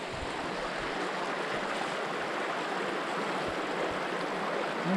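River water flowing steadily around a hiker wading in on a wilderness trail, an even, moderately loud rushing wash with no talking.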